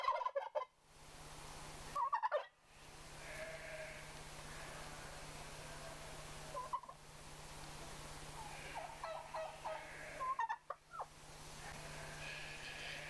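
Turkeys gobbling in bursts, several loud rattling gobbles separated by quieter stretches, with a steady low hum beneath; no talking.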